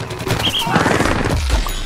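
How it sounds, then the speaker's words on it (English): A football cannon fires in Plants vs. Zombies Garden Warfare, a dense rapid burst of blasts and crashing impacts running continuously, loud and close throughout. "Here he is combining the football cannon with his powerful sprint tackle attack"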